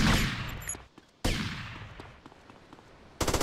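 Police gunfire during a mall shootout in Grand Theft Auto: Vice City, with a loud opening burst of rapid shots that fades, a second volley that decays into scattered pops, and a sharp final burst at the end.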